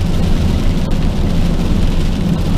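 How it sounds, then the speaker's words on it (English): Loud, steady rain falls outdoors in windy weather as a dense, continuous hiss with a low rumbling undertone, unbroken across the whole stretch with no voices. "You hear that rain, eh?"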